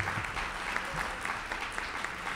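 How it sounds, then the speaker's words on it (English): Audience at a Great Lakes Week conference in Chicago claps in a dense, steady burst of applause, filling the room evenly for a couple of seconds. "Let's give him at least a big round of applause."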